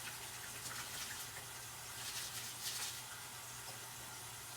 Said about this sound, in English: So I will drain some of the water.